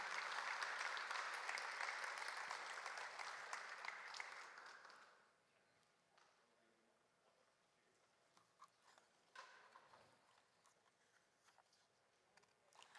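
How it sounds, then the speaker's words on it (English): Audience applause at a student film festival awards ceremony, a steady loud wash of clapping for about five seconds that then stops, leaving a quiet room with faint shuffles and small knocks. "Let's give a round of applause for Lillian."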